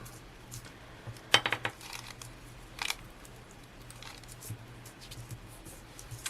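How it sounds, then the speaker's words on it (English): Metal palette knife handled over a planner while washi tape is straightened, producing a quick cluster of light metallic clicks and taps, then a second short clatter, quiet against a faint background hum. "Let's get my palette knife, which is also linked, to help straighten that up."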